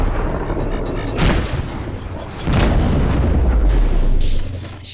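An incoming missile explodes against a ship in the space combat game Rebel Galaxy Outlaw, giving loud booming blasts, one near the start and a heavier sustained rumble later, with crackling bursts among them.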